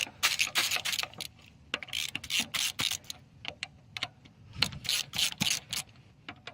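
Screws being loosened on an Invacare Pronto M91/M94 power wheelchair motor, giving a run of sharp metallic clicks and ratcheting ticks in irregular bursts, close and fairly quiet, with no talking.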